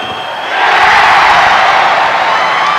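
A packed arena crowd at a 1991 Kingston versus Maccabi basketball game rises into a loud, sustained roar of cheering that swells after a quieter opening and holds steady.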